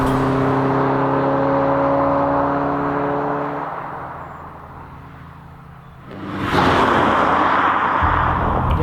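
An Alfa Romeo Giulia GT Junior 1300 engine fires up: a steady low hum fades into a quiet lull, then a loud, rough burst of engine noise bursts in near the end and holds.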